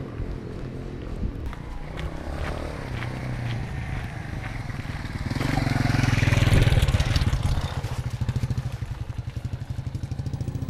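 A motorcycle engine with a fault idles with a steady chugging putter, briefly rising in a rev before settling back to a rhythmic idle, close by.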